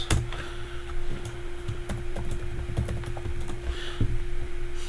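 Rapid clicking on a computer keyboard while a docker command is typed, steady close-up keystrokes with a few louder taps, no talking.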